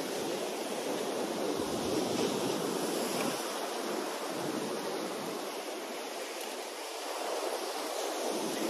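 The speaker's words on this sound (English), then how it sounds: "the water is so rough" Rough sea waves wash up on the shore in a continuous, loud roar of surf that swells and eases, with wind buffeting the microphone and no one speaking.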